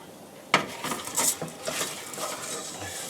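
A utensil stirs arborio rice in a pan for risotto, with a sharp initial clink followed by soft scraping and light rattling, close by and quiet.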